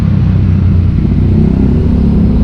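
A 49cc mini ninja motorbike with a cut-off exhaust idles loudly and close, its small engine giving a steady, throbbing rumble with a buzzy rattling pulse throughout.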